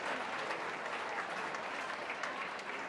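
Crowd applause at a Brighton & Hove Albion v Manchester City women's Super League match in 2024-25. It is a steady, even wash of clapping from a distant stadium crowd, faint throughout and with no clear voices.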